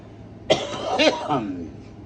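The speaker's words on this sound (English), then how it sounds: "I still got a little bit of a cough" A person coughs close up, a rough burst followed by a throaty, raspy cough trailing off, breaking a moment of quiet.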